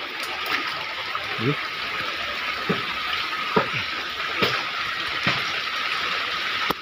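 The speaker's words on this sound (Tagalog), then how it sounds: "Baha na Ito yung sa likuran, baha." Typhoon Enteng floodwater flowing behind a house, a steady rushing wash of water with occasional splashes and knocks, heard at moderate level with voices nearby.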